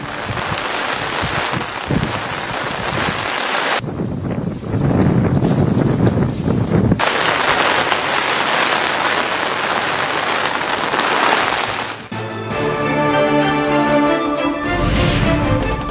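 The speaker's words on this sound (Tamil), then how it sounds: "தஞ்சை மாவட்டத்தில் கடலோர பகுதிகளில் பலத்த காற்றுடன் பெய்து வரும் கனமழை." Heavy rain driven by strong wind on the coast of Thanjavur district, a loud roaring wash with buffeting wind noise on the microphone, in several abruptly cut segments, no talk.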